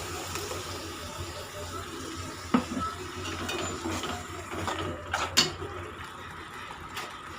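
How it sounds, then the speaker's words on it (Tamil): Water is poured into a pan of curry made with fried appalam and ground coconut paste, a soft, steady splashing stream with a few small clinks, faint and close in a home kitchen. "குழம்புக்கு தேவையான அளவு தண்ணி சேர்த்துக்கலாம்."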